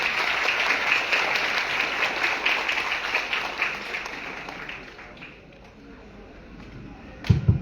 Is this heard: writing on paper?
no